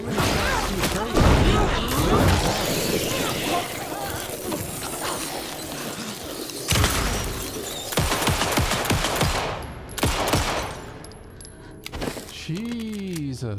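Gunfire in the survival-horror game Alan Wake II, a rapid run of sharp shots and bursts with clattering impacts over tense game sound, loud and close, followed by a few scattered reports near the end.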